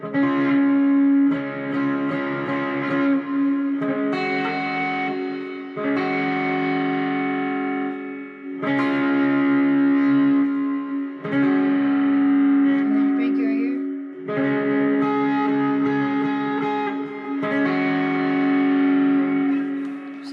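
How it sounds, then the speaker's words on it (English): Distorted electric guitar chords ring out in repeated strums, each held for a couple of seconds with short gaps, thick and saturated. "put on a little bit more gain and distortion or overdrive."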